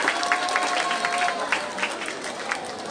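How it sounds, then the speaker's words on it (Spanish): Audience applauding at a school carnival performance, dense steady clapping from a crowd filling the whole stretch, with a voice faintly over it. "Fondo los aplausos para las chicas del CHIP"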